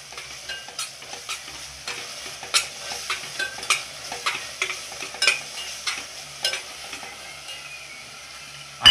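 Onion, coconut, garlic and ginger masala paste stirred in a hot sizzling pan for a kaleji masala, steady frying hiss with repeated sharp scraping stir strokes, close and alone.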